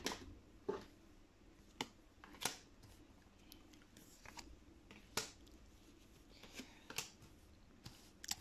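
Tarot cards handled during a reading, heard as faint, sporadic crisp snaps and flicks of shuffled and drawn cards scattered across a quiet background.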